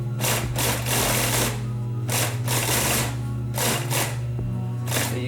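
Sewing machines run in a sewing studio on a Sausalito, California working waterfront, giving a steady close hum with repeated rhythmic bursts of rapid needle chatter that start and stop.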